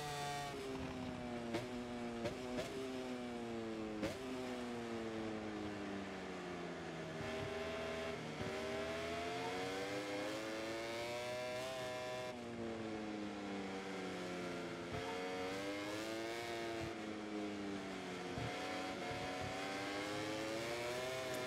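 Racing motorcycle engine in the MotoGP 24 video game, revving up and down through gears in repeated rising and falling sweeps, loud and continuous with no talk.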